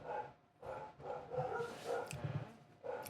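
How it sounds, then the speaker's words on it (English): A dog barks repeatedly in short bursts at a steady pace, somewhat muffled and distant. "You hear the barking down there, dude?"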